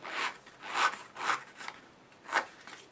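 Cardstock edges distressed with quick scraping strokes on all four sides of a handmade card, about five soft rhythmic rasps, close and fairly quiet, with no speech.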